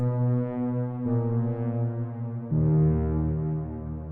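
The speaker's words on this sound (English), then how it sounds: "For some ambience I want to add this static rumble preset from the Saffron Bank." A static rumble ambience preset from a synth bank, heard as a low droning tone with harmonic layers that shifts pitch twice, sustained and fairly soft with no voices.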